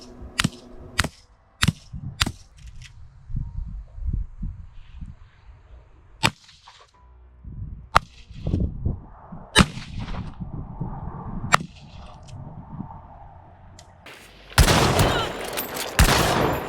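An AR9 carbine firing 150-grain subsonic rounds gives a series of sharp, irregular cracks spread across the stretch, some in quick pairs, with quieter low rumbling sounds between them and a louder noisy burst near the end.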